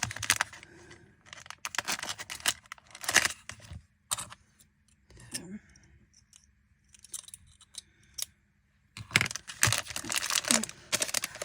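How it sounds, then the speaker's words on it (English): Close crinkling and scraping of plastic packaging in irregular bursts, with quiet pauses between, as a blade works through it; no voices. "I have to use a craft knife."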